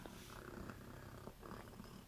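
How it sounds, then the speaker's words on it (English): A cat purrs quietly and steadily at close range on a ranch, a soft, rhythmic rumbling with no other sounds. "Good little kitty cat."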